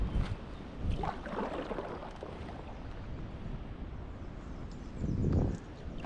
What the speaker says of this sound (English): But we're back, we're paddling.